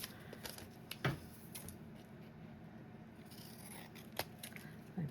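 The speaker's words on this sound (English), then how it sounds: "And then I'm going to trim that off." Scissors trimming paper off a scrapbooking envelope, a few brief close snips and crisp paper cuts scattered through a quiet background.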